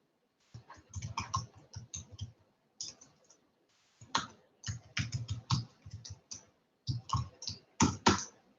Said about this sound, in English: I'm going to go ahead and type a message in there